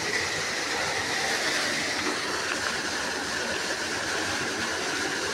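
A farm water pump forces out a strong jet of water, producing a dense, steady roaring rush that holds at an even loudness throughout, with no voices.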